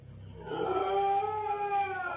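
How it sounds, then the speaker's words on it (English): A dog howls in long, rising and wavering tones that hold steady for about two seconds, fairly close and clear over a low background hum. "Isn't that just a dog?"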